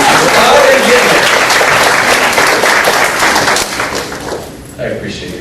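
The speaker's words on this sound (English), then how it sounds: "Give yourselves a round of applause." A room full of people claps loudly and steadily, the applause tapering off toward the end as a voice begins to speak over it.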